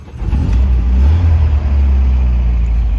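A 1977 MGB classic car with about 96,000 miles catches and runs, its engine settling into a loud, steady low rumble close by with slight revving swells, no talk over it.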